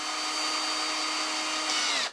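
A Parkside PABS 20-Li E6 cordless drill driver whirs at a steady high speed for about two seconds, loud and close, with a slight rise in pitch before the motor cuts off abruptly.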